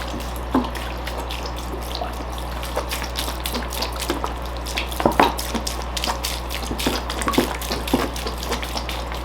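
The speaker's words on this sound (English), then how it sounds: "I'm going to give it a little bit of a watering now. It's going to drip onto my glass table a little bit" Water trickles and drips from newly planted bonsai trees onto a glass table, scattered irregular drips and splashes over a steady low hum, close and moderately loud.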